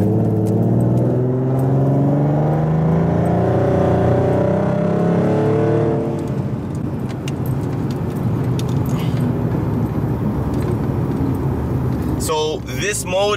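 A Ford Mustang fitted with a Pedal Commander accelerates hard, its engine note climbing through rising revs before easing into a broad roar. A voice speaks near the end.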